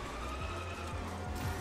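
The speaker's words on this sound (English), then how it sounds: "I really do like the screeching sound of the cars as they take those some of those turns" Racing cars' tires squeal through turns in the video game Rocket Racing, short repeated low screeches over a constant engine drone, faint and steady.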